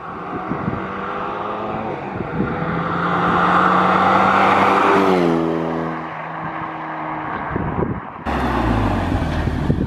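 A Renault Megane RS250 fitted with a Forge intercooler and decat exhaust makes a loud flyby, its engine note rising as it nears, then dropping in pitch with a Doppler sweep as it passes and fades.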